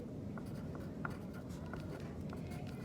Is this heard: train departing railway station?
no